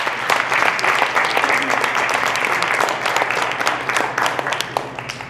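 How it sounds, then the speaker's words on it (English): Audience applause after a lunch-and-learn presentation, steady and fairly loud, with dense clapping that rises and falls slightly over several seconds. "We give David another round of applause."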